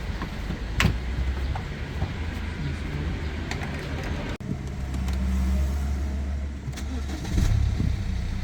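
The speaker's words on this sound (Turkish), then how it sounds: "Evet, arabamızı çalıştırdık." A BMW 320d N47 diesel engine with the EGR blanked off, at 217,000 km, turns over and settles into a steady low idle, close and continuous, with a brief click midway.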